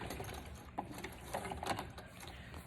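An old sewing machine runs a quick stitch through lace, giving a steady mechanical whir with a few sharper clicks, close and fairly quiet with no talk.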